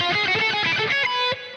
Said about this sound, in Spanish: Y las primeras notas son con palm mute, entonces un poco más rápido, suena así.